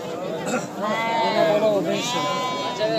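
Several wavering goat bleats close by at a livestock market in Shahritus, overlapping with nearby people talking in a busy outdoor setting.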